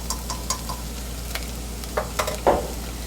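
Softened onions with paprika and cayenne toast in a pan, giving a soft, low sizzle. Sharp scrapes and taps from stirring come at irregular intervals, growing louder toward the end, with no talk.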